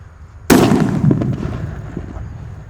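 A banaspati paper firecracker buried in the ground detonates with one sudden, booming blast, followed by a rumbling decay and scattered debris thuds.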